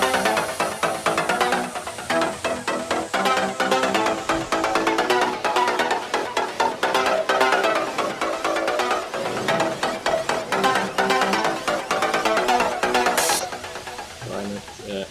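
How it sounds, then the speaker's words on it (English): Twisted trance bassline programmed in Ableton Live, looping with dense, driving pulses and shifting gritty tones, loud and steady throughout with no talking. "So basically what you can hear about this bass line is no usual bass line."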